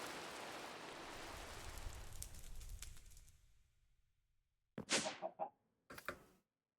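Rain in the Minecraft video game hisses as a steady broadband wash for about three seconds, then thins out and fades to silence, followed by a few short, sharp game sounds in quick bursts.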